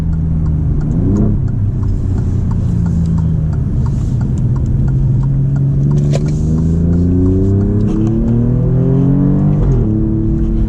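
Loud engine of an Alfa Romeo Giulia Quadrifoglio accelerating from inside, pitch climbing through gear changes with brief drops between shifts, steady and close throughout.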